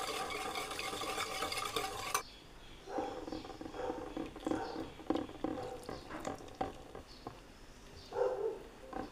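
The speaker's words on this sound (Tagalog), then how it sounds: "Haluin natin." Warm milk, white sugar and instant yeast stirred together in a bowl for siopao dough, a soft scraping swirl that follows a louder burst of other noise, with occasional clinks through the stir.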